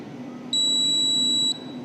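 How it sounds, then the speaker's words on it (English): An electronic beeper sounds one long, steady, high-pitched tone lasting about a second over quiet background hum. "it gives me a short beep, waits for certain period and gives a long beep"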